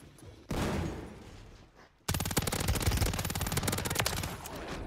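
Call of Duty Warzone gunfire on Rebirth Island: a loud burst of shots, a brief lull, then a long rapid automatic volley of close, rattling shots, with no voices over it.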